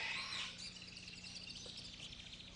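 A man imitates the cry of a bird with his voice, a bright chirping, warbling call at moderate loudness, carrying on steadily for a few seconds without any words.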